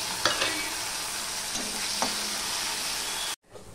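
Grated onion and garlic fry in hot oil with a dense, constant close sizzle and a few light stirring scrapes, ending abruptly.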